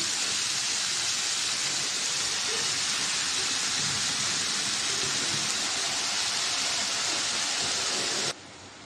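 Snake gourd frying in a pan with a spice paste makes a dense, even sizzle that runs steadily and close, then cuts off abruptly just before the end.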